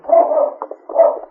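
A dog barks in a 1951 Challenge of the Yukon radio drama, two clear close barks with a short gap between them, alone without talk.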